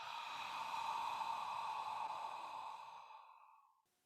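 A slow, steady exhale during qi gong breathing, a breathy hiss with a faint whistling tone that holds for about three seconds and then fades out, soft and close.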